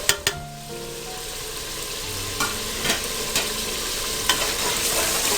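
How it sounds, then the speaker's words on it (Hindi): White lentils (dal mash) fry with spices in a pan, giving a steady sizzle with occasional stirring clinks and scrapes, close and continuous. "और इसको फ्राई करें।"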